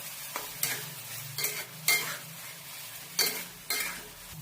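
Peas are cooked and stirred in a tomato mixture in a pan for a matar-palak bhaji. About six distinct scraping strokes of a spoon land in an uneven rhythm over a low, continuous sizzle, with no voices.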